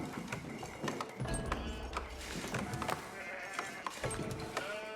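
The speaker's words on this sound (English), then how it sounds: "I forgot I have sheep." Sheep bleat repeatedly in a video game, several overlapping calls over a busy backdrop of in-game sounds such as hooves and clatter, fairly loud throughout.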